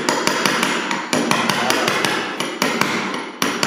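A steel chisel is struck repeatedly with a hammer to lift parquet flooring cemented to the subfloor. The sharp, loud metallic blows land close up in a steady, fairly quick rhythm.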